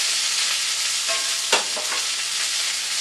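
Wine poured into a hot pan after cooking salmon, with garlic nearby, giving a steady hissing sizzle throughout and a brief, sharper burst of crackling about midway.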